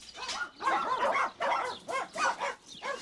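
Dogs barking on an animal ranch housing many cats and dogs, a rapid series of sharp, fairly close barks and yips in an uneven rhythm, with little else audible.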